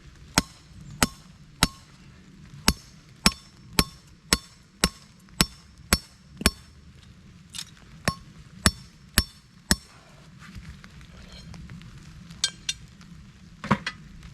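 Sharp, evenly spaced metal strikes ring out as a heat-treated stake driver hammers an earth anchor stake into the ground, a steady hammering of about twenty blows that slows and fades near the end.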